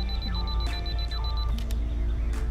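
A Canon M50 camera's two-second self-timer beeps in a rapid, steady series of high electronic tones, loud and close, heard alone.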